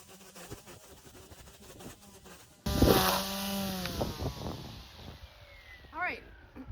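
A string trimmer cuts overgrown grass along garden bed edges in a fall garden, starting abruptly as a loud, close buzzing whine that rises and falls as it works, with talk faintly underneath.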